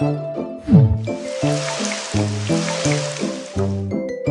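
Water poured onto flowers in a cartoon for toddlers: a steady, splashy pour lasting a few seconds beneath bouncy, tuneful music.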